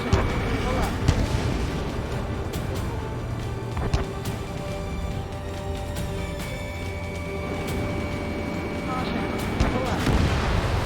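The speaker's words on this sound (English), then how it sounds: "Target destroyed by Strider 1." Constant booming explosions and artillery fire in the Ace Combat 7 combat flight game, a dense loud rumble with sharp blasts, under radio voices.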